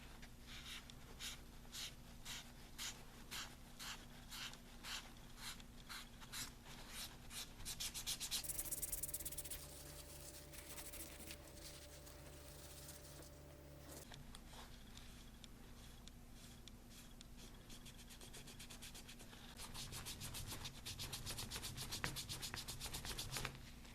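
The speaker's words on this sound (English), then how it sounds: "Now I'm going to lightly go over that with a paper towel." A paper towel is rubbed lightly over black paint worked into cracks on a creepy doll, giving repeated soft scratchy strokes in a steady back-and-forth rhythm, close and quiet.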